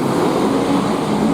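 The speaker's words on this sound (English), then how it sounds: "And there's one of these zero emission buses" A zero-emission, fully electric bus passes on May Street in Belfast, a steady broadband rolling rumble with no clear engine note that holds loud and even throughout.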